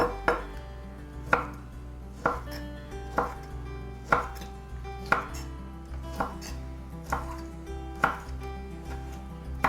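Steady rhythmic knife chops through jarred roasted red peppers on a cutting board, roughly ten crisp close strikes evenly spaced, with no talking.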